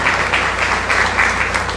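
A seated audience at a book presentation claps together, a steady, dense round of applause that stays close and full for its whole short length.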